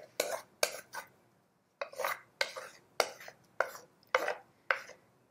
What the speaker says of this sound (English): we are going to add the wet to the dry, folding it in.